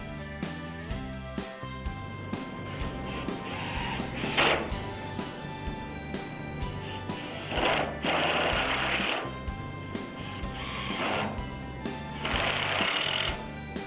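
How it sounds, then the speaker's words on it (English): A power driver sinks screws into the sill corners of a Pella Impervia sliding patio door, with repeated close whirring bursts of varying length separated by short pauses, loud and without talk. "Align the sill corners and then install the sill screws using 3 screws per corner."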